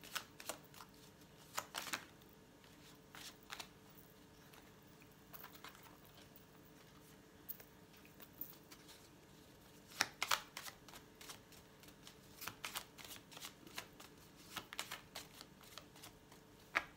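Cards from a tarot-style deck are shuffled and handled in several short, crisp bursts of riffling and patting, fairly faint and close, with quieter pauses between and no talking.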